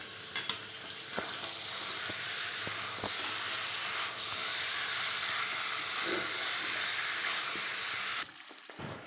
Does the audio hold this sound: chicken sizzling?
yes